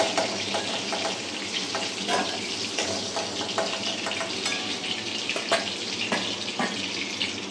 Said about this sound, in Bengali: আমি হালকা ভেজে এটাকে উঠিয়ে নিচ্ছি।